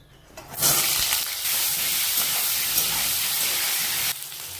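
Pointed gourd dropped into hot mustard oil, a sudden loud hissing sizzle that starts after a brief quiet moment and holds steadily, close up and without talk.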